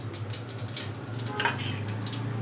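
Cumin and asafoetida sizzling in hot oil in a pan, a steady soft crackle and hiss heard up close with a few brighter pops.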